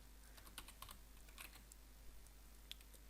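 Quiet typing on a computer keyboard during Python coding, a few soft irregular keystrokes with sharper clicks at moments, alone over faint room hum.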